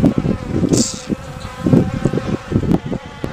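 Bees buzz loudly close by, their droning rising and falling in uneven bursts as they fly around near the listener.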